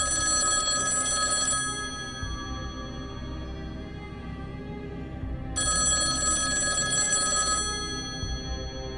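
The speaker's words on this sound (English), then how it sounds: "The old phone's loud noise woke up my friends." An old telephone rings loudly in a woodland cabin at night, two long bursts of bright metallic bell ringing separated by a pause, near and piercing.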